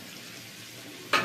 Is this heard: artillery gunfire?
no